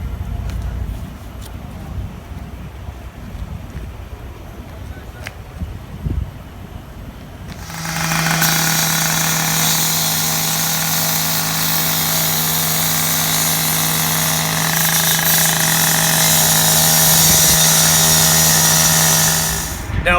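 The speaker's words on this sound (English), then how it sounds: "I'm going to start up the saw, and I'm going to saw cut the outer perimeter of the patch area." A walk-behind saw starts up to cut the perimeter of an asphalt patch in a parking lot repair, rising after quiet background noise into a loud, steady engine drone with a sustained tonal whine that runs to the end.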